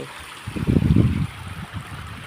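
Irrigation water flows and gurgles into a bed of a groundnut field, a low, close rushing swell that builds and then settles into a softer trickle, with no voices.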